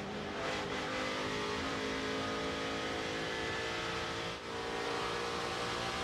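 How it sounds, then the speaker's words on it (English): A NASCAR race car engine at Pocono in 2006 drones steadily and loudly for several seconds, its pitch swelling and easing as the driver feathers the throttle on and off, with one brief dip near the end. "you'll hear him feather that throttle all day long"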